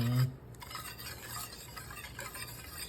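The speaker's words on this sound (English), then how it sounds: "So we're gonna just whisk that together." Steady close scraping and swishing of a whisk stirring caramel sauce in a pan, continuous rhythmic stirring for a few seconds without talk.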